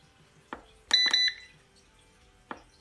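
Carey electric pressure canner control panel, two soft button taps framing a short bright electronic beep pair, close and quiet in an otherwise still kitchen.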